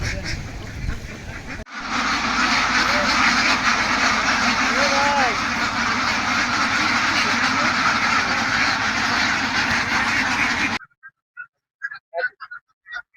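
Ducks raised for eggs on a farm honk and quack in a dense, continuous flock chorus, loud and close, which cuts off abruptly near the end, leaving a few brief faint calls.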